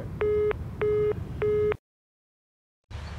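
Three evenly spaced beeps of a phone busy tone over faint background noise, then a sudden cut to silence before the hiss returns.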